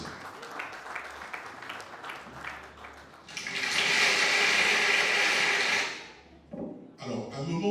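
Large concert crowd at a Kimbanguist Christmas show in the Dôme de Paris bursts into loud, dense applause and cheering for about three seconds, swelling then fading into music.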